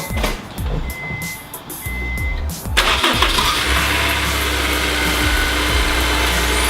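A starter cranks briefly, then a Honda S2000 engine catches and settles into a steady running rumble, with faint beeping before it starts.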